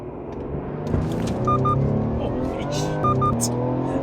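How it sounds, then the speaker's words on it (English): A Ford Explorer with a performance tune and launch control takes off hard, its engine roaring up as the tires spin and squeal, loud and close, with no talk. "It's never spun the tires like that before."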